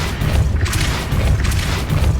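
A Depulso spell blast in the Hogwarts Legacy video game, booming in loud continuous bursts with heavy low rumble and crackling texture, no talk.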